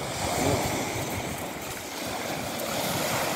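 Sea surf washes continuously at the beach, a broad steady roar mixed with wind buffeting the microphone, loud and close with no voices.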